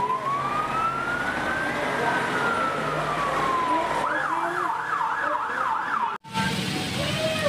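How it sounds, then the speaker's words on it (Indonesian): A toy fire truck plays an electronic siren that starts as a long rising and falling wail and switches to a fast warbling yelp before cutting off abruptly. "Wow, ada mobil pemadam kebakaran."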